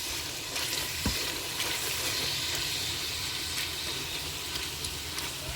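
Masala for restaurant-style maash daal fries in a pan with a steady, soft sizzle and faint crackle, with occasional stirring taps and no talking.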